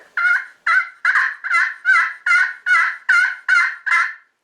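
Ten evenly spaced, raspy yelping notes from a turkey friction call played with a wooden striker, loud and close, each a short scratchy yelp in a steady rhythm.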